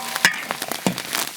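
Pickled cabbage stir-frying in a hot wok with soy sauce gives a close crackling sizzle broken by several sharp pops and spits over about a second and a half, with no voices.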